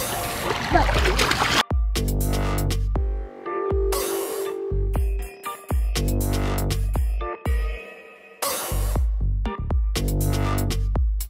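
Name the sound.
child splashing in swimming pool water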